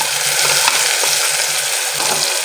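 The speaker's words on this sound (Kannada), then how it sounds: "ರುಬ್ಕೊಂಡಿರೋ ಪೇಸ್ಟ್ ಹಾಕ್ಕೊಂಡು ನೀಟಾಗಿ ಇದನ್ನು ಫ್ರೈ ಮಾಡ್ಕೊಳ್ಳಿ." Ground spice paste and onions for tomato rice fry in hot oil, a loud, close, constant sizzle with soft scrapes as a spoon stirs the pan.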